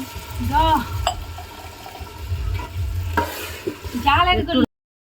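Dal being stirred into a hot pan with fried chicken pieces for chili chicken, giving scraping stirs over a steady close sizzle, with a few brief voice-like sounds.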